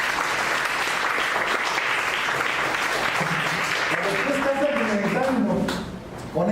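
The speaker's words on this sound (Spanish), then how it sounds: "Dale una ofrenda de palmas a Dios." Church congregation applauding at a Spanish-language sermon, sustained dense clapping throughout with a voice talking over it near the end.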